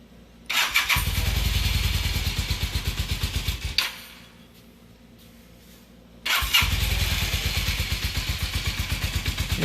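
A Honda CM450 motorcycle, sitting unused for 10 years, cranks and fires on half choke, a close rapid chugging rhythm that drops to a quiet lull and then picks back up with renewed pulsing.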